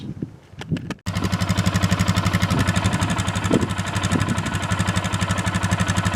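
An engine turns over with a few sputters, catches, and settles into a steady, rhythmic idle that runs close and loud throughout.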